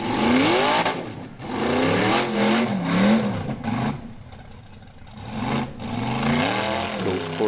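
The Green Thunder, an Icelandic Formula Offroad car, revs hard on a hill climb at Egilsstadir; its engine note rises and falls in repeated loud surges that fill the whole stretch, with no speech.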